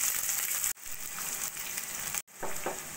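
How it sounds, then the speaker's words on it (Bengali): Finely chopped onion and green chilli frying in hot oil for a dal chicken tarka, a loud even sizzle broken by two brief cuts, no voices. "দিয়ে দেবো একটা বড় সাইজের পেঁয়াজ একদম ছোট ছোট করে কেটে নেওয়া।"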